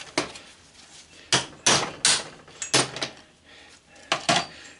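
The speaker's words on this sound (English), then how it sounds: "Then I'll take a cold chisel, just lay it up here," A hammer strikes a cold chisel to split a cast aluminum fridge fan motor housing, with about nine sharp, close metallic blows in uneven bursts and short pauses between.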